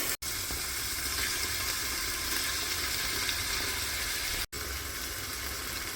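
Diced tomato and tomato paste sauté in a pan for a chicken and borlotti bean stew, giving a steady, close, even sizzle that barely varies, cut briefly by two sharp dropouts.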